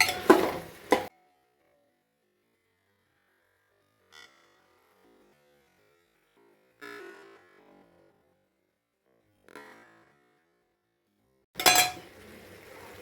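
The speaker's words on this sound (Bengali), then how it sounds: "সব নাড়িয়ে বেশ করে মিশিয়ে নিলাম।" Chicken stew ingredients, carrots among them, stirred in a cooking pot, heard as a few short scraping and clinking bursts separated by long silences, with louder clattering at the start and end.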